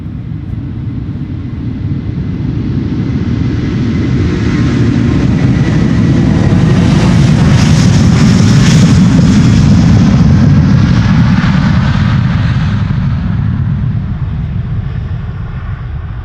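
A Delta Airlines jet, Flight 47 to New York JFK, roars at Schiphol Airport. The loud, steady engine rumble swells toward the middle as the plane passes close by, then eases slightly.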